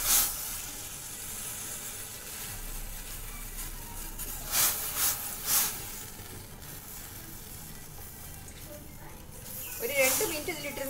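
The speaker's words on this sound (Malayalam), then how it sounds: "വെള്ളം നല്ലപോലെ തിളച്ചിട്ടുണ്ട്" Washed spinach drops into boiling water on a gas stove, with a steady low hiss of rolling water and the flame, and a few sharp splashing bursts as the leaves go in.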